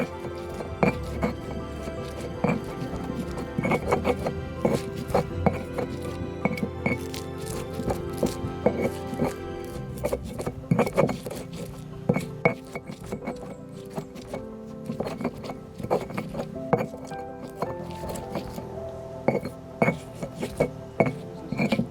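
Lemongrass stalks being bruised and pounded into ground spices for Sumatran sambal gulai, giving repeated sharp knocks and glassy clinks of a pestle or utensil against a bowl, steady and close throughout.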